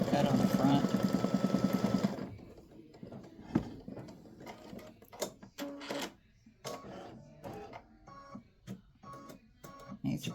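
A computerized embroidery machine stitches a pickleball design, giving about two seconds of dense, rapid mechanical rattling before it settles into sparser, irregular clicks and short thumps.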